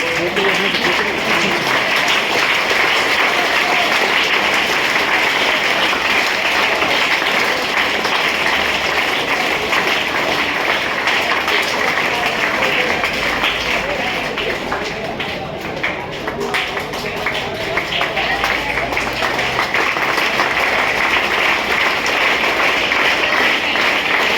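Sustained audience applause at a Har Ghar Tiranga campaign event, dense continuous clapping from a large crowd that stays loud for the whole stretch without pause.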